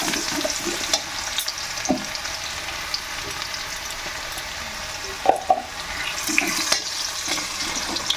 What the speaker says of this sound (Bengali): আর এবার দেবো পেঁয়াজ। যে তেলে বেগুনি ভেজেছিলাম ওই তেলেই করছি রান্না।